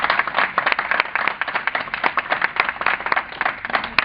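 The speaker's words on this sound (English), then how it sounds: "if you guys want to give a round of applause to the panel" A panel audience at a training event applauds, with loud, close clapping in a busy, continuous patter of individual claps that holds steady throughout.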